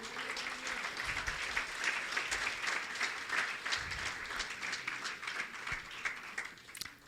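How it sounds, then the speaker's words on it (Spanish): A church congregation applauds during a sermon at a conference, sustained, somewhat distant clapping that fills the room evenly for several seconds before easing off. "Alguien dale un aplauso a Jesús."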